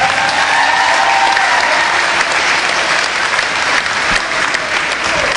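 A large crowd at a tribute during a Mainland vs. Holy Spirit game applauds continuously, a dense, loud wash of clapping sustained throughout with no break.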